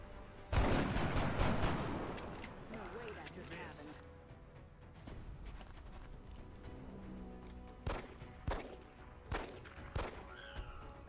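Gunfire in XCOM: Enemy Unknown, a dense burst of shots early on, then scattered single reports later, with a voice talking over the game.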